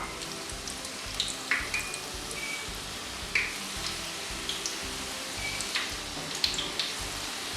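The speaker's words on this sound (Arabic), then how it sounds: "نفخو في الزيت." Grawch pastries deep-frying in oil give a steady, dense sizzle and crackle with scattered sharper pops throughout, close and continuous with no talking.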